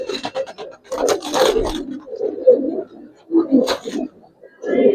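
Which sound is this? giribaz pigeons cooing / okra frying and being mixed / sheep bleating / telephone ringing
giribaz pigeons cooing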